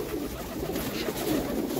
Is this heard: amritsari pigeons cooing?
yes